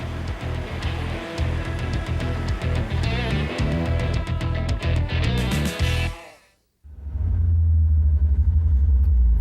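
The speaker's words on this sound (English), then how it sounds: "The sweet sounds of this 1967 Dino Fiat Spider." A 1967 Dino Fiat Spider engine roars loud and close, rising and falling in rapid revs with music-like bursts, cuts briefly to near silence, then returns as a steady deep rumble.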